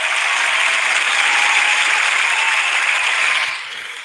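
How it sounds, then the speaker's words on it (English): A small group claps together in a room, a steady patter of applause lasting a few seconds before thinning out and fading near the end, with no speech over it. "The low budget clapping"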